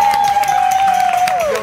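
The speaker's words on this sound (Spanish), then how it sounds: "mantengan el aplauso para toda la gente que labura este programa" Studio audience on a live TV morning show clapping for the production crew, a steady dense wash of applause with a sustained musical tone gliding across it and a brief voice near the end.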